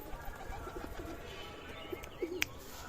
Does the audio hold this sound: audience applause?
no